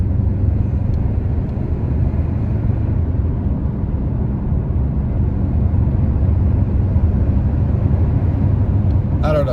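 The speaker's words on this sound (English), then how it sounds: "Let's see if we can hear that turbo." A 2025 Toyota Tacoma with a turbo engine, heard from inside while driving: a steady, loud low rumble of engine and road noise that holds evenly throughout, with no distinct whistle standing out.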